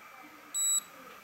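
A Nu Skin ageLOC Galvanic Spa facial device gives one short, clear, high electronic beep, about a quarter second long, over a faint steady background hiss.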